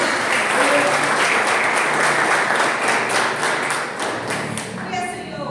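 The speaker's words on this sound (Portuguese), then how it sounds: "aplauda o Senhor nessa noite" A church congregation claps together at an evening worship service, sustained, loud and even applause filling the room, tapering slightly near the end with a few voices beneath.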